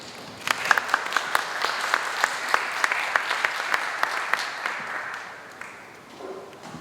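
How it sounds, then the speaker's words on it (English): An audience claps for a team at the Hult Prize 2023 final pitch event, a dense burst of applause that holds steady for several seconds and then fades out. "Please give a round of applause for our Team Trouble."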